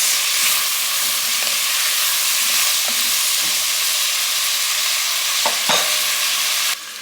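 Vegetables seasoned with sea salt and pepper are stirred and cooking in a pot for lobster bisque, giving a steady close sizzle and hiss with occasional scraping stir strokes and no talking.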